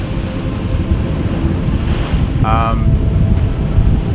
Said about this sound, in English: Watching the waves crash and like making sure that we don't get splashed by the waves.